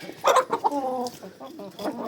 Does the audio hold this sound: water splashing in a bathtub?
no